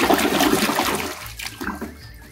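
Water splashes and trickles over a toy hippopotamus as it is washed, a loud close wet rush that eases off after about a second into softer dribbling.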